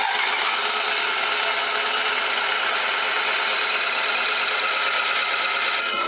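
An RV generator runs with a steady hissing, rattling mechanical drone that stays loud and constant throughout, close by with no talking.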